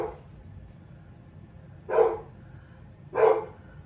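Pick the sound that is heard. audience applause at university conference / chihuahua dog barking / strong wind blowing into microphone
chihuahua dog barking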